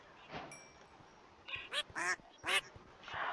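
Ducks quacking in the video game Minecraft: several quick, nasal quacks in a cluster, close and fairly loud, over a faint ambient background.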